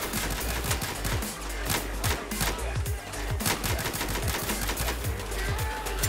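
Rapid automatic gunfire rattles in Battlefield 4 gameplay, dense bursts of shots rolling almost without pause across the whole stretch, loud and close, with no talk over it.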